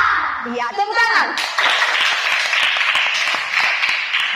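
After a brief shouted chant, a class of pupils claps their hands together in a loud, dense round of clapping that continues steadily to the end, with children's voices mixed in.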